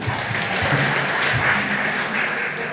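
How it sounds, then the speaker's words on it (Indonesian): An audience at an Islamic talk about Muhammadiyah preachers claps in a steady, fairly dense burst of applause, moderately loud and continuous throughout. "Tepuk tangan dulu ini."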